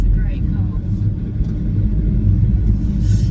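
A 1.9 PD TDI diesel engine in a Volkswagen Transporter T5 van runs with a steady low rumble throughout, close and continuous, while people talk over it.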